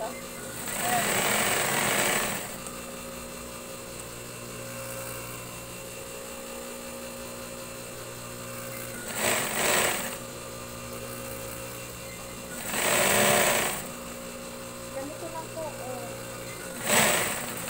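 A sewing machine stitches a hotdog-style pillowcase with a zipper in bursts of loud, rapid mechanical whirring, four runs of a second or two each, separated by quieter stretches with a steady background hum.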